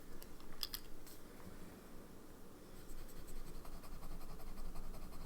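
Faint scratchy scribbling of a pen with a black coated nib on paper, soft irregular strokes in short bursts, quiet and close with no talking.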